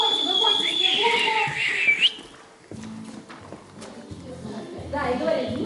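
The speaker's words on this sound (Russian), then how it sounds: "И сразу включай свист разбойников." A robbers' whistling sound effect plays over a speaker at a New Year rehearsal in a community hall, shrill whistles for about two seconds, then talking with a rising whistle returning near the end.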